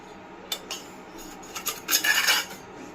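A spoon scrapes and rubs against a pot while stirring tea with sugar, a few short scraping strokes building into a quick cluster near the end, close and fairly faint.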